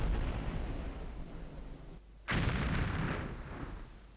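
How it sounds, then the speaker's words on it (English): Artillery fire in the Civil War strategy game Battleground: Antietam booms loudly as a long rumbling volley, breaks off briefly, then a second heavy salvo bursts in and slowly decays. "Now the great artillery slaughter has begun"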